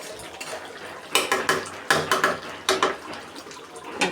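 Clattering metal cookware in a home kitchen as a lid is set onto a pot of simmering chicken curry, with a few sharp clanks and scrapes spread across a quiet background.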